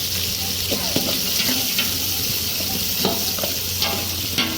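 Onions and green chillies sauté in hot oil with salt for a vegetable biryani, giving a steady close sizzle with repeated scraping stir strokes of a spoon against the pan.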